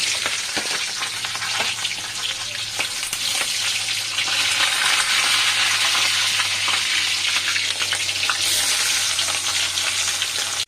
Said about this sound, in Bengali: মাছটা দিয়ে হালকা লাল করে ভেজে নেব।